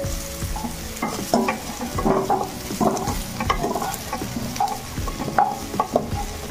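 Crab curry frying and being stirred in hot oil in a village-style kitchen, with a continuous sizzle and repeated scraping stirs close by and no talk.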